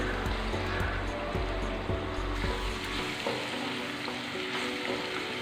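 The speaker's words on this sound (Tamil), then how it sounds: "கருவேப்பிலை சேர்த்துக்கிறேன், கொஞ்சம் வதங்கட்டும்" Curry leaves sautéing in hot oil for a potato and green peas masala give a steady close sizzle with crackling pops, heaviest over the first three seconds and then settling to a thinner, even hiss.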